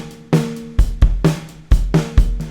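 A drum kit plays a steady groove with a poor, amateur mix: boomy kick and snare hits with ringing tonal overtones, several strikes evenly spaced, loud and up close.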